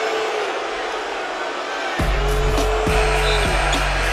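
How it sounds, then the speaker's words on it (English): A home crowd in a college basketball arena at a Miami vs Clemson men's game rumbles with a broad sustained roar of displeasure, while several ball bounces thud on the court below it. "Hometown crowd doesn't like it."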